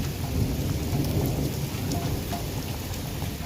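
Heavy rain pours steadily onto surfaces during a thunderstorm around Dadyal, Azad Kashmir, with a dense continuous hiss and low rumbles of thunder beneath, loud and close, with no voices.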